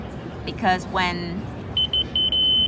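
A laser receiver detector emits a run of short, high electronic beeps in quick succession toward the end, following a man's brief speech.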